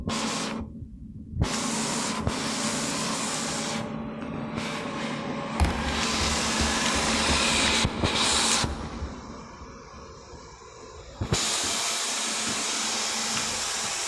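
A Wyze robot vacuum cleaner runs close by with a steady whirring motor drone, its pitch and level shifting slightly as it moves across the floor, with a few brief bumps along the way.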